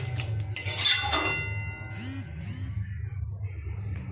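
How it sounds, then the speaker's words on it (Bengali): A metal pan of paneer and cauliflower curry clinks and scrapes against a serving bowl as the curry is tipped in, with sharp utensil taps early and softer scraping and sliding sounds after, heard close and alone. "এবার এটা আমি বাটিতে ঢেলে নেব"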